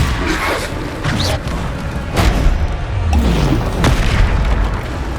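Bombarda spell blasts in Hogwarts Legacy combat, loud booming explosions landing in quick succession over dense, sustained battle noise with rumbling low end.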